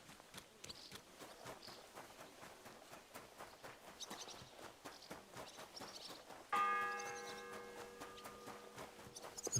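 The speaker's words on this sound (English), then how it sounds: "The first bell." A single church bell strikes once in the medieval video game Kingdom Come Deliverance 2 and rings out with a long fading tone, following steady footsteps in a quiet town.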